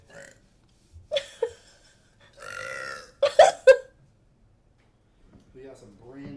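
A woman burps several times on a livestream, short loud belches clustered in the middle, with talking and laughter around them.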